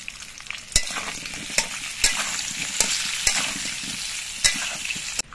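Round potato slices sizzle in hot mustard oil, a continuous loud crackling hiss punctuated by sharp periodic knocks of a spatula against the pan.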